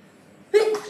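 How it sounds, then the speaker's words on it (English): A single close, sharp human sneeze bursts suddenly after a quiet moment of faint breathing, ending abruptly. "Oh, I'm going to sneeze."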